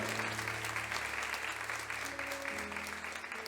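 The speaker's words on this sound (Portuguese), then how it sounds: "Quem crê que esta obra do meu Deus, aplauda ao Senhor." Church congregation applauding during a sermon, a sustained wash of clapping with steady organ or keyboard tones underneath, moderately distant and soft.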